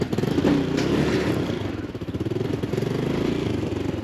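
Motorcycle engine running steadily while riding, a close mid-pitched rumble with rapid pulsing throughout, continuous and fairly loud, no talking.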